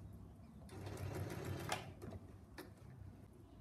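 Sewing machine stitching the side seam of a fabric scrunchie, a quiet continuous rapid mechanical whir with a few small clicks as it runs, stops and reverses.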